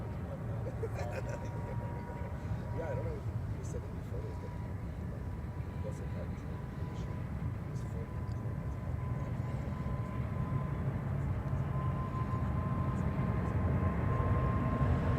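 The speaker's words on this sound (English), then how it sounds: "Oh, it's going to be a long takeoff." An airliner takes off from Ted Stevens Anchorage International Airport, a long, steady low roar that swells slightly as it rolls, heard continuously under people talking.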